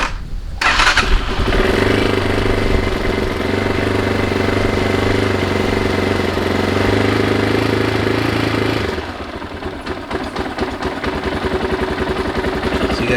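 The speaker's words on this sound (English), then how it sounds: "See guys, so the bike actually is starting up. It's still sounding well." A dirt bike damaged in an accident starts up and runs, a loud close engine roar with a sputtering start, steady running, then a shift to a rougher rattling idle.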